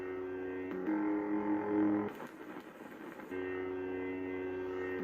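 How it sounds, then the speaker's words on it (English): A lightsaber's steady electronic hum, shifting in tone as it cycles through different sound banks, with a brief rougher, louder burst and a noisier gap before the smooth hum returns. "Listen, you'll hear the hum change."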